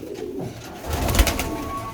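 Black Jacobin pigeons coo softly in a loft, a low throaty burble that swells in the second half, with faint background noise and no talking.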